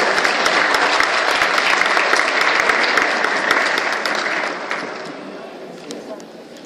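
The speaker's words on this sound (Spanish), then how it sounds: "Un fuerte aplauso y muchas gracias por su presencia y apoyo" Applause from an audience at a lecture: loud, full clapping from many people that holds for a few seconds, then gradually thins and fades toward the end.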